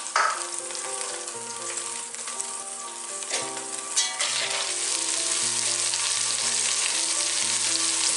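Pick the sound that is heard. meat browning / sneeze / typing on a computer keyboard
meat browning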